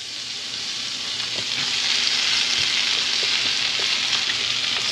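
Red porgy fillet frying in a hot pan over medium high heat, a steady, loud, close crackling sizzle with faint pops underneath and no talking.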